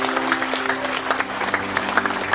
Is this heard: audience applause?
yes